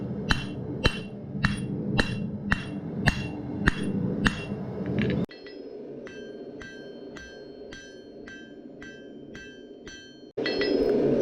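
Hammer blows ring out as a farrier's rasp is forged into a tomahawk, evenly spaced metallic strikes on an anvil, loud and close at first, then lighter and quicker in a second run.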